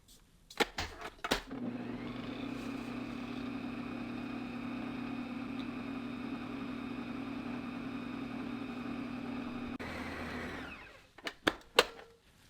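A stand mixer kneads brioche dough with a steady mechanical whir and hum for several seconds, starting and stopping abruptly, with handling knocks and clatter before and after.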